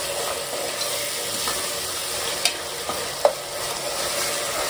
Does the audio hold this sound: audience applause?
no